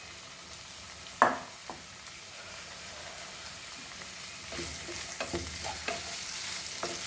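Beef fries in a pan for Goan beef biryani, giving a soft steady sizzle with occasional sharper scrapes and stirring knocks, growing busier toward the end; no talking.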